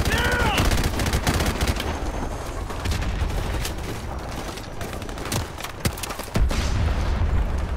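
Loud automatic gunfire in Call of Duty 4 Remastered, dense bursts of shots and heavy booms filling the whole stretch, with a brief voice near the start.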